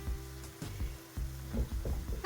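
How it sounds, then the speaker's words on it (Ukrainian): Hake fillets sizzle steadily in oil in a pan, with a few soft clanks and knocks from handling at close range; no talking. "тепер накриваємо сковорідку кришкою і смажимо так 10-15 хвилиночок"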